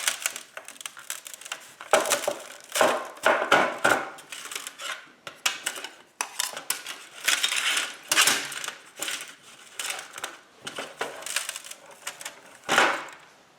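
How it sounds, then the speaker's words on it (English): Hard, glassy lumps of Venice turpentine resin being broken up for violin varnish, giving a dense run of sharp cracks, clinks and crunching snaps at close range, irregular and continuous with no talk. "here's our Venice turpentine, and it needs to be broken up."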